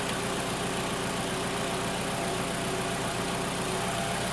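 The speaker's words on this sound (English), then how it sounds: "Okay, I've got the engine running." A 2017 Toyota RAV4 engine idling after a battery replacement, a steady close mechanical hum with no break or voices.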